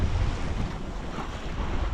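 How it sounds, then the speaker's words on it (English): Steady wind rushes across the microphone aboard a Catalina 25 sailboat on open sea near the Channel Islands, with a constant low roar and faint wash of waves, no voices. "finally picked up a little wind. Blowing pretty perfect"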